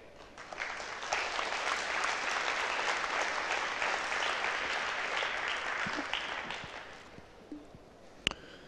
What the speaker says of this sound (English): So give yourselves a round of applause for being here once again